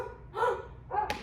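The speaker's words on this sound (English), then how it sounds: "Do you hear the dog?" A dog gives two short barks about half a second apart, moderately loud and alone against a faint background hum.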